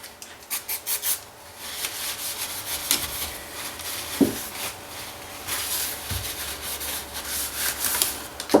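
Grease and dirt being rubbed and wiped off rear brake parts of a 2007 Ford KA, a steady scrubbing friction with a few sharper knocks of metal, close and moderately loud, no talking.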